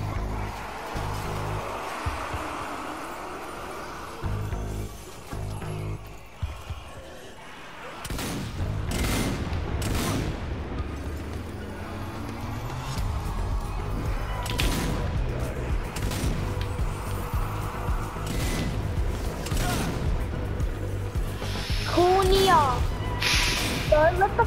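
Shotgun blasts in the video game Zombie Army 4 ring out as repeated sharp booming shots, scattered irregularly over a noisy combat din, with players talking throughout.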